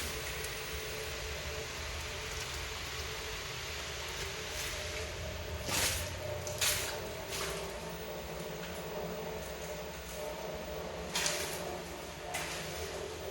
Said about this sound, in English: Oh, that's water.